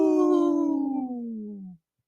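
A person imitates a wolf howl with one sustained, loud, slowly falling howl of nearly two seconds, heard alone and ending abruptly.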